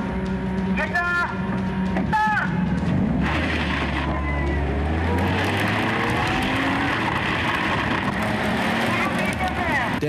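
A roughly 700 kg city mini car with about 100 horsepower launches from a standstill. Its loud engine note climbs steadily in pitch, with tire noise, after a brief spoken countdown and voices.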